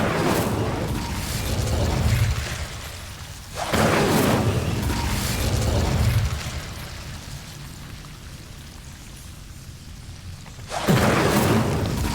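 The Incendio fire spell is cast in Hogwarts Legacy, giving loud crackling whooshes of flame in several bursts: one at the start, another around a third of the way through, and a last one near the end. A rumbling roar fills the gaps between them.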